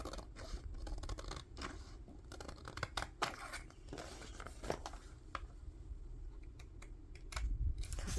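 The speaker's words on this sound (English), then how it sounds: "I'm just gonna cut here" Scissors cutting paper for a book signature, close crisp snips and rustles in an irregular run with bursts of crackling paper handling.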